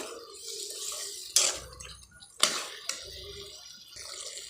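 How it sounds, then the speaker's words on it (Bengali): Water is poured into a pot of chicken korma with stirred yogurt, making faint splashing and dribbling with a couple of sharper splashes, all at close range. "এখানে আমি জল দিয়ে দিই"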